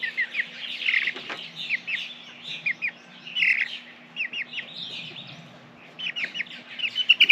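Young Breese chickens, among them a little rooster, chirp and peep in quick repeated bursts throughout, near and moderately loud, with no talking over them.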